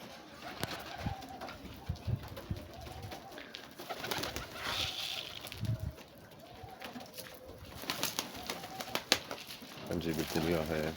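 Pigeons at a loft coo softly, with occasional bursts of flapping wings nearby, while people talk over the birds throughout.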